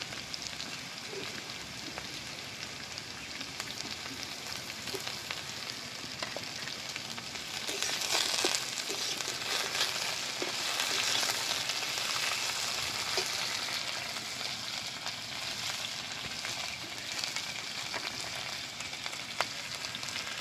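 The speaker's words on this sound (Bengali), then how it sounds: "এখন আমি এরই সাথে দিয়ে দেবো 2 রকম ক্যাপসিকাম, লঙ্কা, লাল, হলুদ। একই সাথেই ভেজে নেব।" Beans, carrots and red and yellow capsicum frying together in a pan, giving a steady broadband sizzle that swells louder midway, with occasional faint scrapes and no voices.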